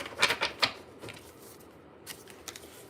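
Tarot cards being shuffled by hand, a quick series of crisp riffling snaps followed by softer, sparser flicks, close and faint in a quiet room.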